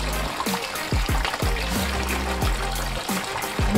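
Water spilling from a tank through its overflow after a ball valve fault, a steady close trickling and pouring with repeated gurgling, bubbly drops running throughout.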